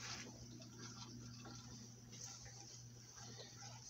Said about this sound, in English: And hook up the water pump right now.